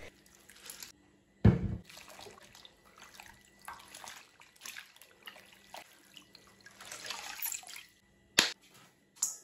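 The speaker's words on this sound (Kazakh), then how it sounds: "салқын суға жақсылап жуып, суы сарқылғанша сығып аламыз" Salted cabbage leaves rinsed in cold water and squeezed out for kimchi, giving soft intermittent splashes and drips with one sharper splash, close and quiet, with no talk.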